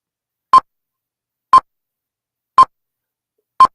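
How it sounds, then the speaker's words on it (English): Fantasy football draft timer beeping four times, one short, clear electronic beep roughly every second with silence between. "it sounds like a bomb timer"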